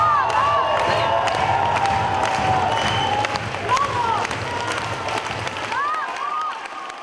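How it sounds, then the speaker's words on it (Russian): Audience at the premiere of the musical "Dubrovsky" applauding and cheering in a large hall, a dense, steady wash of clapping with scattered shouts and whistles that thins out near the end. "Зрители аплодировали стоя и долго не хотели отпускать артистов со сцены."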